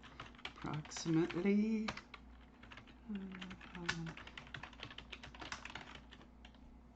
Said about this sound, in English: looking for my notepad that I'm typing this in